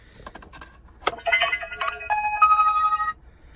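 Uno Blast card launcher toy, an electronic jingle of bright beeping tones after a few clicks, short and fairly quiet, with no launch following.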